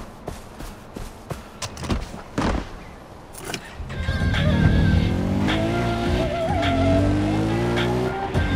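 A car engine in the video game Far Cry 4 revs up and climbs steadily in pitch, with tire squeal, after a few seconds of scattered thumps and clatter. It sounds close and loud, with no talking.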